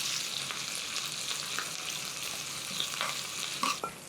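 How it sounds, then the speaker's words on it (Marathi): Coriander sizzles steadily in hot oil, a dense, even crackle close by with a few soft knocks near the end. "कोथिंबीर अशी तेलात तळली ना"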